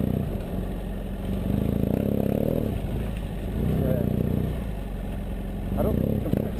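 A BMW F800 GS motorcycle rides and drifts on gravel, the engine droning and swelling in waves with crunching and clatter, while a rider talks over it.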